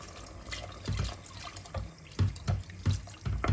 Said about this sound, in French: Je couvre avec de l'eau.